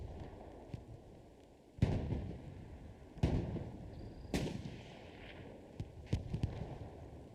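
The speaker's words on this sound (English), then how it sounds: "Taking some shots on the Balson." Gunfire in the World War II shooter Hell Let Loose during a competitive match, several sharp shots and distant booms scattered irregularly over a low rumbling battlefield background.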